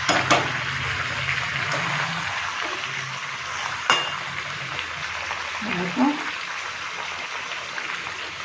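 Water poured onto sautéed chicken in a hot pan sets off a steady hissing sizzle with occasional stirring clatter, close and continuous throughout.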